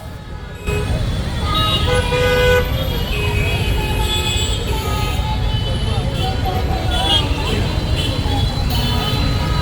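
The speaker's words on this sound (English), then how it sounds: "Horns and hoots and hoots and horns." Loud, busy street traffic in Bengaluru, India, with engines droning and repeated car horns honking and tooting throughout, layered and close.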